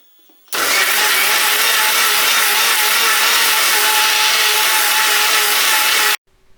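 A mixer grinder whirs at full speed grinding roasted masala for mushroom curry, a loud, steady high-pitched motor roar starting abruptly and cutting off sharply after several seconds.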